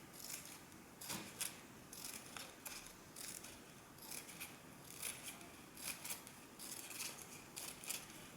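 Scissors snipping fringes into a strip of crepe paper for a flower crown, a run of quiet, close, repeated crisp cuts at an irregular pace.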